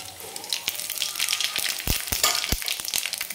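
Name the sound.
whole spices frying in hot oil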